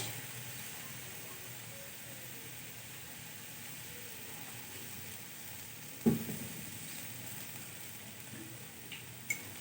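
Soft, steady sizzling of masala pasta frying in a pan as soy, chili and tomato sauces go in, with a faint clink near the middle and quiet stirring throughout.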